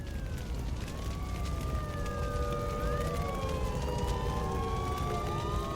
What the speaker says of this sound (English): we hear sirens blaring in the distance